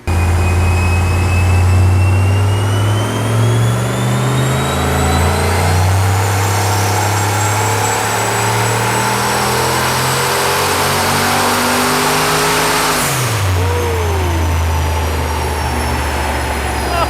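A twincharged Dodge Magnum with a swapped Hellcat V8 roars on a dyno, revs climbing steadily with a supercharger whine rising above the engine, then the throttle cuts and the pitch drops sharply before it settles.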